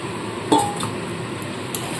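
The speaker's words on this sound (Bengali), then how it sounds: "দেখুন ভেজে রাখা আলু পটলটা দিয়ে দিচ্ছি" Fried potato and pointed gourd pieces are tipped into a pan with a single clinking knock of metal, then a fainter tap, all close and without talk.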